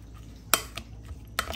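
A spatula bashes and breaks up lumps of fried rice in a pan, two sharp metallic knocks with lighter scrapes between, fairly faint against a low kitchen hum.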